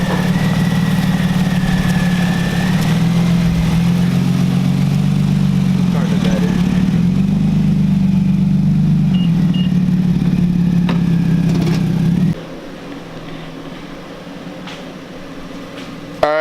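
A Toyota Tacoma pickup with newly installed rear disc brakes drives along: a steady, loud low engine drone that drops suddenly to a quieter hum near the end.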